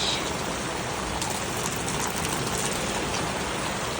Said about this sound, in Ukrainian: У нас дощ.